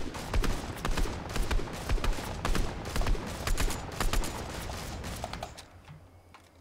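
Rapid, loud gunfire in a video game, aimed at a tower, fires in dense bursts of close shots for several seconds, then stops and fades to quiet near the end.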